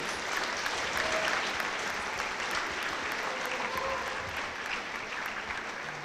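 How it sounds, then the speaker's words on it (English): An audience at an eighth grade recognition ceremony applauds the graduating students, an even, moderately distant wash of clapping that holds steady from start to finish. "We can have a round of applause for these students"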